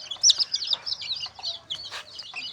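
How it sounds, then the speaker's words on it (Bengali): Young chicks being let out of their coop on a farm give a quick run of cheeping, clucking calls, close and fairly clear over a quiet background. "এই যে আমাদের মুরগির বাচ্চাগুলোকে এখন ছেড়ে দেবো"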